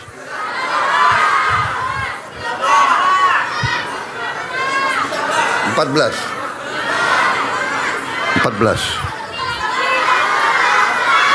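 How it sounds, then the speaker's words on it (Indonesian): A large crowd at an outdoor political event in NTB, Indonesia, shouts out answers in loud, ragged bursts, with children's voices among them and someone speaking between the outcries. "Kalau semua teriak saya nggak bisa dengar."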